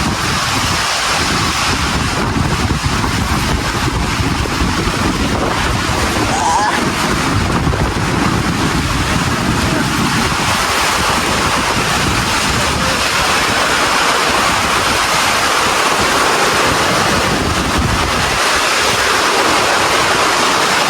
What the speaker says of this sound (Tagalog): Binagsakan kami ng malakas na ulan.